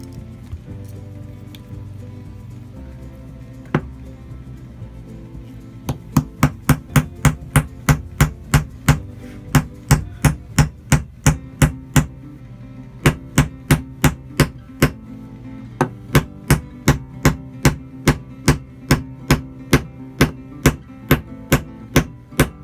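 A Bear Grylls knife's pommel is struck against a metal nail in a long run of sharp, evenly spaced metallic taps, close and loud, with a short pause midway and no talking.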